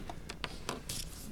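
A Pilot marker and twin-tip pen drawing on paper, heard as a few short, scratchy strokes in quick succession, close and faint, over a low background hum.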